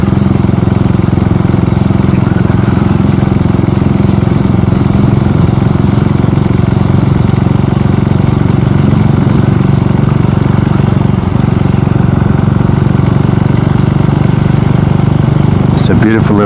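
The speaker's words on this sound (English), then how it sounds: "this is also a single-cylinder engine" A 390 Duke single-cylinder motorcycle engine drones steadily while riding through parkland, mixed with constant road and wind rush, with a rider talking over it throughout.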